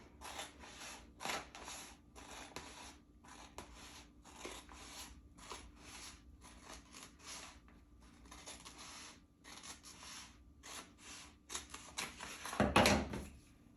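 A Cricut cutting machine slices paper with quick, rhythmic mechanical bursts of scraping and whirring, fairly quiet and close, ending in a louder rasping burst near the end.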